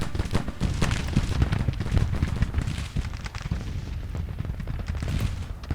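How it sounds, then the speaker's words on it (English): Artillery and musket fire in Grand Tactician: The Civil War, a dense, continuous battle din of overlapping booms and sharp cracks, steady and loud throughout with no pauses. "Artillery, you need to open up on the 5th North Carolina."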